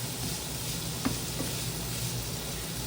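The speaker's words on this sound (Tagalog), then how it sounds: "igisa-gisa lang natin siya hanggang lumambot yung kamatis" Chopped tomatoes sauté in a pan, giving a continuous close sizzle with an occasional light tap of stirring, steady and unbroken throughout.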